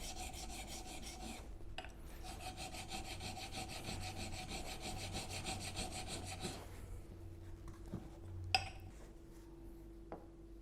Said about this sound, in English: has been ground flat on the coarse diamond